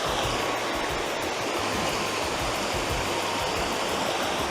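Thusra Falls, a waterfall in hill country, roars as a steady, dense rush of falling water that fills the whole stretch without a break, loud and close, with no voices over it.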